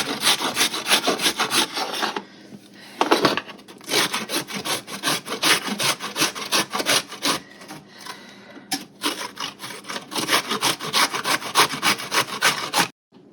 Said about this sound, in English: I'm going to take some zucchini, and I'm going to grate it up and add it to the hamburger meat.